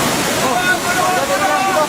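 Rain with rushing, sloshing water rising inside an irrigation cave, a loud steady wash of water close by with a voice speaking over it.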